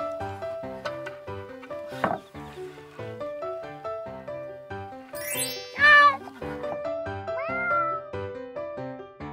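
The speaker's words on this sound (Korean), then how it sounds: "고양이도 제 말하면 오네" A cat meows a few times, high and drawn out, over gentle background music with occasional soft clinks.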